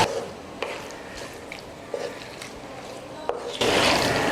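Washed chicken gizzard pieces are stirred in a pan for a gizzard fry, giving soft wet squishing and light sizzling textures, with a louder burst of frying near the end.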